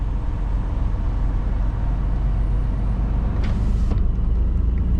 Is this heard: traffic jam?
yes